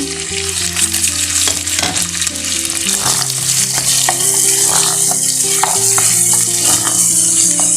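Chicken fries loudly in a pan for chicken rice with a constant close sizzle, and stirring adds scraping and clattering throughout.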